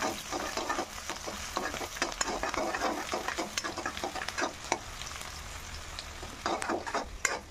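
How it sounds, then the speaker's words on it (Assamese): Onions and local chicken fry in a pan, a continuous sizzle broken by repeated scraping strokes of a stirring spoon, close and clear with no talk. "প্ৰথমতে পিঁয়াজখিনি গল্ডেন ব্ৰাউন হোৱালৈকে ভাজি ল'লে, তাৰপিছত এয়া মাংস দি দিলে।"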